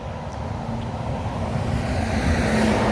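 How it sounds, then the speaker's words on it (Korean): Cars passing on a road near forested land in Wonju, South Korea, a steady swelling whoosh of traffic that grows louder toward the end, with some wind noise and no talk. "오, 차들 막 숭숭 다닙니다"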